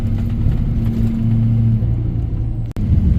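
A GM diesel pickup truck on oversized wheels drives along with a steady low engine rumble and road noise, close and continuous, briefly dipping near the end.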